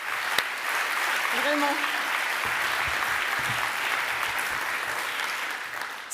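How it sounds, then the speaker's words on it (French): Sustained audience applause at a school award ceremony fills the clip, steady and dense throughout, with a brief spoken word and a short whistle-like tone rising over it early on. "Et je voudrais vraiment qu'on l'applaudisse"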